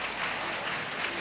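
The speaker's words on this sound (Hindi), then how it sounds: "बहुएं, ताली तो बजा दो" Applause from the audience at a spiritual discourse, a dense, steady crowd clapping that fills the whole short moment without any voices over it.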